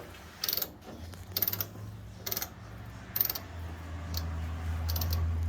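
A ratchet loosens the rear bumper bracket bolts on a Jeep Comanche, with four bursts of rapid metallic clicking spaced about a second apart. A low hum sits underneath, and two faint ticks follow near the end.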